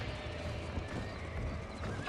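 A horse in the video game Red Dead Redemption gallops with steady clip-clop hooves and whinnies at the end, under a French-speaking player's talk.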